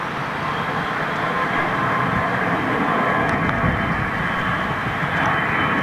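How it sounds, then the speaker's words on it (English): A Brussels Airlines jet in Red Devils livery departs low and heavy from Heathrow, its engines a loud, broad, steady roar that holds close by throughout without any talk. "here comes your, that's your Red Devils, Brussels Airlines Icon aircraft"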